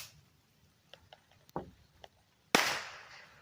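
Firecrackers bought from a Lancaster fireworks shop go off outdoors, first as a handful of small sharp pops and crackles, then one loud close bang that leaves a long fading hiss.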